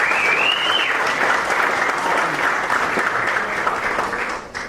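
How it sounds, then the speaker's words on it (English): Audience applause fills the room steadily and loudly, a dense wash of many hands clapping at once that holds for the whole stretch and thins slightly only at the very end. "Can we give it a round of applause for this?"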